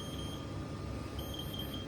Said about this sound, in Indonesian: Kalau ada alarm seperti ini, bisa dicek itu terjadi leak.